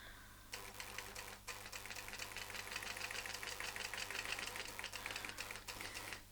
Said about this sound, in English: We'll first sew from A to B, then we'll sew to B1, turn the template, and sew back to A.